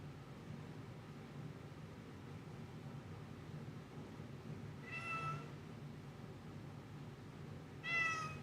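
A cat meows twice, close and clear, several seconds apart, over a steady low background hum.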